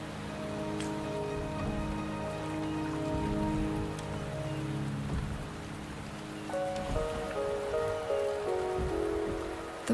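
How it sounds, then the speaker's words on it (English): Rain falls in the video game Wuthering Waves, a steady close patter of drops on surfaces under sustained game music tones, with no talk. "The rain is subsiding, and the sky will soon clear."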